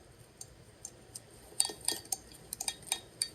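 A fork clinks and scrapes against the sides of a small bowl of blueberry pancake batter, a series of light, sharp ticks growing more frequent, close and fairly quiet with no talking.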